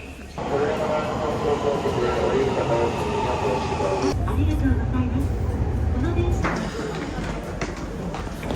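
A passenger train in Japan runs between stations, a loud, steady rumble and rattle heard from inside the carriage that shifts in tone partway through, with voices talking over it.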